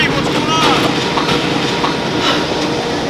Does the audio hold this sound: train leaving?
yes